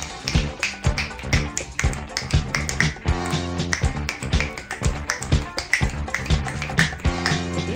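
Rapid, crisp finger snaps repeat close to the microphone in a quick, uneven rhythm throughout, over a steady background of music.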